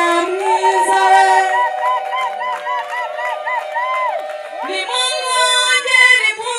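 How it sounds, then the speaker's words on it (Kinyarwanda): Wedding guests ululate impundu for the bride at a Rwandan wedding, several high trilling voices overlapping in loud, warbling waves. There is a short break midway before a fresh burst of trills rises again. "babyeyi mumuhe impundu mwiza we"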